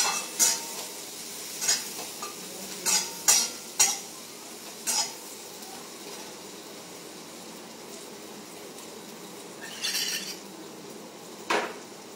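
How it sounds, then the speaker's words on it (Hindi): Utensil scrapes and clinks sound in a pan as green chillies and chopped onion are stirred while frying, with sharp intermittent knocks over a faint background sizzle. "इसमें हरी मिर्च मैं डाल रही हूँ, देन ओनियन कटा हुआ बिल्कुल चॉप"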